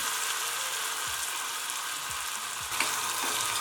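Mustard seeds, curry leaves and spices crackle and sizzle steadily in hot oil nearby while tempering for khara pongal, with a few soft knocks of a utensil against the pan.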